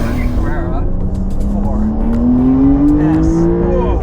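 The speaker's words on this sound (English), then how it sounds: "we are driving the 992 Porsche 911 Carrera" A 992-generation Porsche 911 Carrera 4S drives along with a steady engine drone whose pitch climbs smoothly under acceleration, while people talk over the sound throughout.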